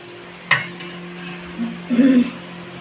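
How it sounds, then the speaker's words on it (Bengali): Crab legs fry in a pan with a soft steady sizzle, broken by a sharp utensil clack near the start and a louder scraping stir toward the end; no talking. "মানে কাঁকড়ার পাগুলো ভাজা করলেই হয়ে যায়।"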